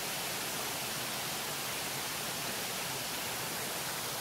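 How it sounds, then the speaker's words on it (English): A small waterfall in a Minnesota park rushes steadily as a soft, even hiss of falling water, quiet and unbroken throughout. "A waterfall."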